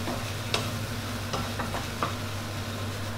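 Shrimp pad thai tossed and stirred in a hot pan, with a soft steady sizzle under a few sharp scraping clicks of the utensil against the pan, close by and moderately quiet.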